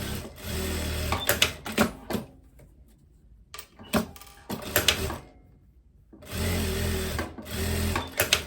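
A domestic sewing machine joins the shoulder seam of a tweed overcoat in bursts. Loud stitching runs come in short spurts, then a longer steady run, with quiet pauses between them.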